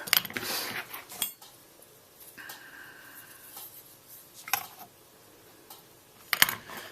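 A wing divider pricks evenly spaced stitch-hole marks, set 3/4 inch apart, into leather for a bag: a few sparse, light ticks and scrapes spread across a quiet room, with a brief thin scratching stretch partway through.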